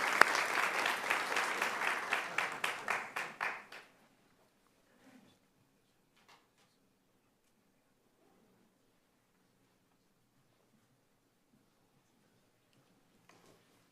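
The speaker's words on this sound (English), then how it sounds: "Please give them a round of applause." Audience applause at a city council meeting, a loud burst of clapping that lasts about four seconds and stops abruptly, followed by near silence with a few faint room noises.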